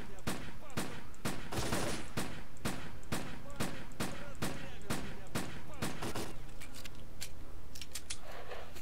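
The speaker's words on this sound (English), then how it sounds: "Okay, they are shooting at me." Enemy gunfire in the video game Lost Alpha, fired at the player on hostile territory: a long, steady string of sharp, loud shots about two or three per second, with a few quicker clustered bursts near the end.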